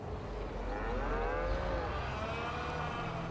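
Cattle moo in Farming Simulator 22, several drawn-out, wavering lows overlapping at moderate distance over a low background rumble.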